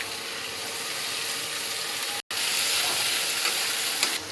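Tomato goes into onion and ginger-garlic paste frying in oil for chicken kosha, a loud, continuous close sizzle and hiss with faint stirring scrapes and a brief cut in the middle.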